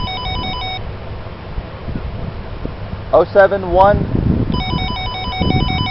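A gate telephone entry system rings in short repeating electronic bursts at the start and end, with wind, rustling and a person speaking briefly between rings.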